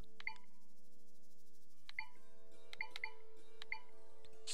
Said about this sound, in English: Ignore the beeps.